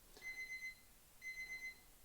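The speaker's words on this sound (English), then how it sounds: "I got an alarm going off too." An alarm beeps in two quick bursts of four electronic tones each, separated by a short pause, faint and alone.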